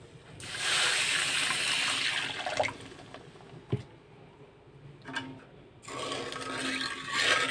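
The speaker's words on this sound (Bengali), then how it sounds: "পানি দিয়ে দিচ্ছি" Water is poured onto sugar in a karahi on the stove for lemon pickle, a rushing, gurgling pour that comes in separate bursts with brief knocks and quiet gaps between.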